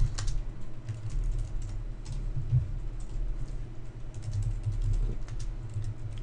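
Steady close typing on a computer keyboard while C# code is written, soft rapid key clicks running continuously over a low background hum with no speech.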